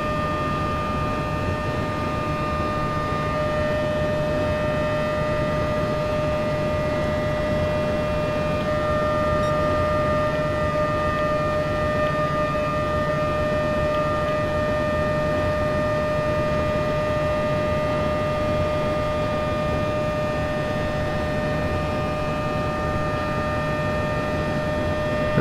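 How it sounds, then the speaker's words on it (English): A Mazda RX Vision engine in a racing video game drones at a steady, constant pitch for the whole stretch, a smooth unchanging whine with layered harmonic tones and no talking. "I'm just enjoying the sound of this engine."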